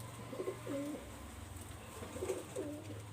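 A pigeon cooing softly in two separate low, rolling coo phrases, faint and close, with a steady background hum underneath.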